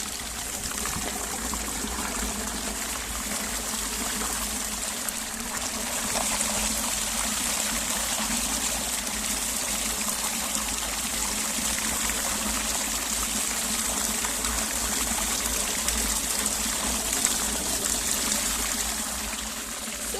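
Water running through a net that clogs with debris, set up where an otter catches fish: a steady trickling and gushing stream, continuous and fairly close, with no talking.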